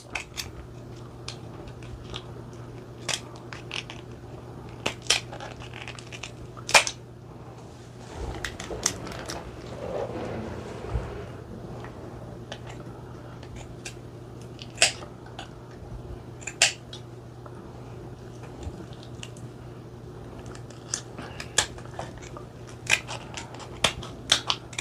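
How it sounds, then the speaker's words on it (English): Scissors snipping underneath a lobster shell while preparing a seafood dish, a series of sharp, crisp clicks and crunches spread through the take, fairly close and clear over a low steady hum, with no talking. "Just cut underneath the shell here."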